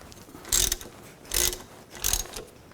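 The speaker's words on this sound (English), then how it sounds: "Now we can take these caliper bolts out. I'm going to use a 12mm socket," A ratchet with a 12mm socket loosens caliper bolts on the rear brake of a 2000–2006 Chevy Tahoe. It gives three short, loud bursts of rapid clicking with brief pauses between them, close up and with no talk.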